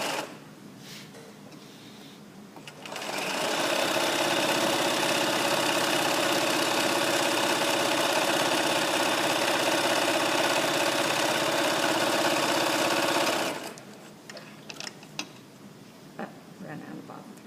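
A sewing machine stitches a children's surgical cap in one steady, loud whirring run of about ten seconds, starting and stopping abruptly, with quiet handling sounds before and after.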